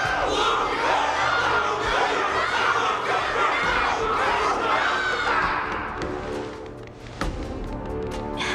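Loud, continuous crowd cheering and battle cries fill a Honkai: Star Rail arena after a battle, a dense roar of many voices that eases slightly toward the end, with a few sharper shouts near the close.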